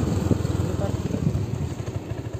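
A motorcycle engine runs close by at the Tanjung Api-Api port near Palembang with a steady, rapid low putter, idling evenly throughout.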